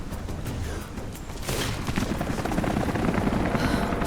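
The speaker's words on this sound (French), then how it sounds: "c'est bizarre que les hélicos l'aient pas encore repéré" Helicopters approach in the video game Rise of the Tomb Raider, a loud, steady rotor thrum that grows stronger about halfway through and holds without talk.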